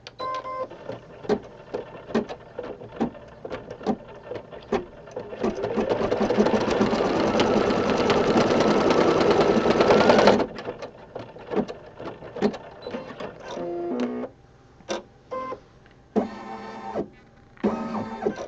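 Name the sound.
embroidery machine stitching a rug design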